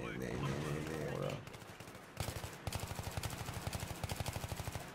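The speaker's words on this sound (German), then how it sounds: "dieser Sound von der M16" An M16 rifle fires in Battlefield 3, a fast rhythmic burst of sharp repeated shots that continues steadily after a short stretch of speech.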